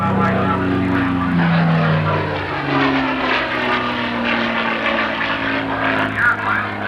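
A P-51 Mustang passes low along the show center line at a 1987 airshow, a loud, steady propeller-engine drone with shifting pitch as it goes by, under crowd noise.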